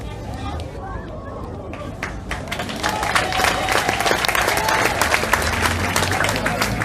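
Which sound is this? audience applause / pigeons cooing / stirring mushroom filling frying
audience applause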